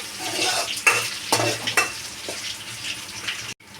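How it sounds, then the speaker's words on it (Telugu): Onions sizzle in a pan with leftover rice as a spoon stirs them, with several distinct scraping clanks over a steady fry before a sudden cut near the end. "ఆనియన్స్ కూడా బ్రౌన్ కలర్ అయ్యేంత వరకు వేయించుకోవాలండి"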